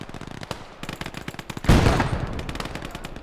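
Rapid bursts of machine-gun fire from a crewed gun in a World War II strategy battle game, a close, loud rattling volley over background battle noise, with a heavier blast partway through.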